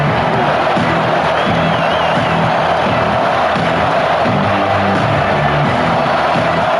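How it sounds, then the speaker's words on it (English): Home crowd at a football game roaring and cheering continuously, a dense, loud wall of voices with whoops rising out of it, steady throughout. "This home crowd is fired up and ready to make a difference today."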